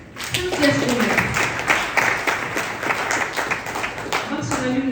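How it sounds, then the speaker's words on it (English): An audience claps for a presenter at a project launch event, a sustained, fairly loud patter of hands lasting several seconds, with voices mixed in. "Can we give him a clap?"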